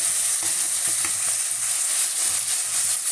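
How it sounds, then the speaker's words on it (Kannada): Tomatoes tipped into a pan of sizzling onion tempering for mandakki usli, a dense, loud, continuous frying hiss with faint stirring clicks underneath, no talking. "ಈಗ ಟೊಮೊಟೊನ ಆ್ಯಡ್ ಮಾಡೋಣ."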